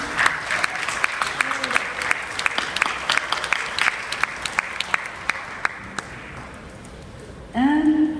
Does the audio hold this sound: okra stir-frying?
no